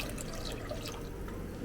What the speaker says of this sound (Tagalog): So, lalagyan natin ng kaunting tubig guys.